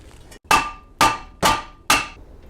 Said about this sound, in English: Usually one good smack will do it.